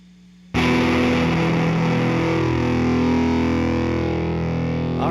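A distorted electric guitar chord, re-amped through a passive direct box run backwards into pedals and an amplifier, bursts in after a short hum and rings out loud and sustained with gritty overdrive.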